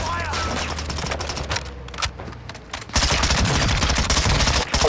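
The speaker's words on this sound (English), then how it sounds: "What the fuck is shooting me?" Dense gunfire in a DMZ video game, sustained bursts of automatic shots rattling loudly and near, briefly thinning before resuming at full intensity, with a voice mixed in.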